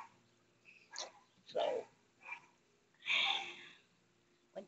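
A dog barks in short bursts, several sharp woofs spaced apart, fairly close, with a brief spoken word at the start.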